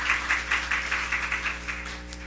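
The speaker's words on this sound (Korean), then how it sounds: "우리 하나님께 박수 올려드려요" A church congregation applauds during a Sunday worship service, a rhythmic, fairly even clapping with regular beats over a low steady hum, fading slightly toward the end.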